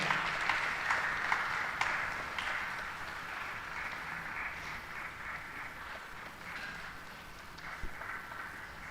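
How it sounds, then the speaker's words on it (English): Hall applause at a career awards summit continues for several seconds, starting fuller and gradually thinning into scattered claps at a moderate distance. "Keep clapping, keep clapping, keep clapping."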